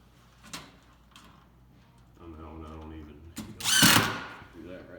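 A power drill drives screws through thin wood, one short whirring burst rising to a loud, harsh grind near the end, with someone talking over it.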